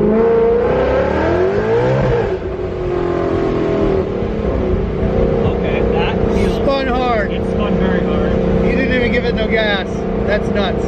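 A 1,000 hp ESS G3R supercharged Ford Mustang GT pulling hard, its engine roaring and climbing in pitch through rising sweeps, loud and close throughout while people talk excitedly over it.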